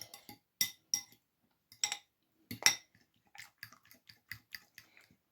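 Spoon clinking against a bowl while oat pancake batter is mixed, a series of sharp, close metallic taps in an irregular rhythm with quieter scraping between, no voices.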